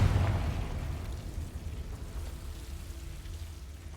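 A Confringo blasting spell in Hogwarts Legacy erupts with a loud, low booming burst at the start, then decays into a rumbling, crackling tail that fades over a few seconds.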